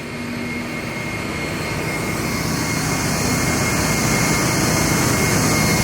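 Jet blowers roar steadily over a NASCAR track at Lime Rock Park, drying the surface; the loud, continuous turbine-like rush swells slightly louder toward the end, with no talking.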